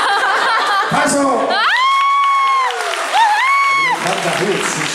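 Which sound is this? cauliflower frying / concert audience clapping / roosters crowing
concert audience clapping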